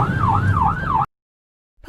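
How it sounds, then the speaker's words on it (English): An ambulance siren wails in a smooth rising and falling sweep, loud and close, lasting about a second before cutting off abruptly into silence. "Ambulance."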